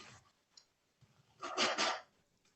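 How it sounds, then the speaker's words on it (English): A single sneeze bursts out near the end, preceded by faint breaths and small clicks in an otherwise quiet room. "I'm just continually sneezing."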